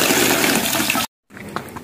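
Fresh water pouring in with a loud, steady gushing rush that cuts off abruptly, followed after a short silence by quieter trickling and splashing.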